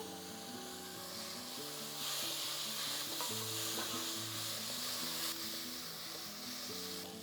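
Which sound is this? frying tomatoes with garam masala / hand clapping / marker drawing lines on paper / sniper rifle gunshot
frying tomatoes with garam masala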